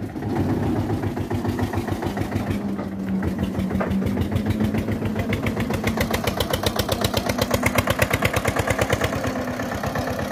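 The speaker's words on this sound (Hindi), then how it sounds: "जहां से ट्रैक्टर पूरा जोर लगा के चढ़ेगा।" An old Eicher tractor hauling about 65 quintals of sugarcane labours up a steep, dangerous turn, its engine chugging loudly and steadily close by, the rapid firing pulses quickening and strengthening as it pulls hard under load.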